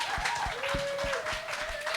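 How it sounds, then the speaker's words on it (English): An audience claps for a women's discussion panel hosted by NORML Canada. The applause is steady and continuous, with a faint voice underneath. "let's give our panel a round of applause for being awesome."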